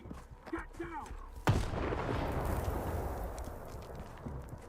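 A grenade explodes in the video game S.T.A.L.K.E.R. 2, a sudden sharp blast followed by a long rumbling roar that fades slowly, with brief talk and game sounds just before.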